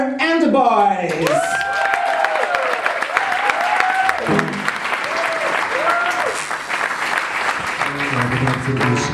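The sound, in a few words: audience applause and cheering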